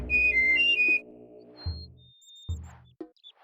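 Meducan whistle from the video game Oddworld: Abe's Oddysee, a quick series of clear, high two-tone whistled notes up front, followed by softer scattered chirps and brief low thuds.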